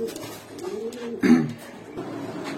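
A Gorra pigeon coos in a low, rolling burst, close and fairly loud, with a brief stronger swell midway through the short call.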